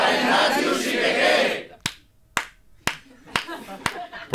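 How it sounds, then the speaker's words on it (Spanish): Studio audience on a Spanish comedy show bursts into loud dense applause and cheering, which cuts off abruptly and gives way to a few sharp, spaced single claps under scattered talk. "¡Un aplauso para Ignacio Sibegué!"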